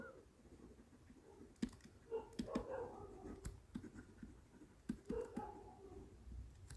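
Pen writing out working for an A Level accounting answer, quiet scratching strokes with a few sharp taps, close and faint, alone with no talk.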